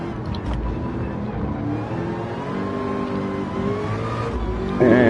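Race car engines roar continuously around the Le Mans circuit in a VR racing game, steady loud drone with shifting pitch as cars run in a slipstream along the Mulsanne Straight, with a sharper burst of revving near the end.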